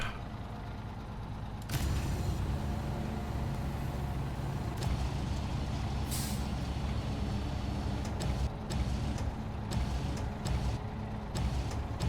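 A truck in the SnowRunner video game sets its air brakes: a sudden sharp hiss bursts out, then a steady engine drone continues with a few faint clicks and releases, all without speech.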